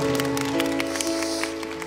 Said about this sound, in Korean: 다시 한번 축복의 박수 부탁드리겠습니다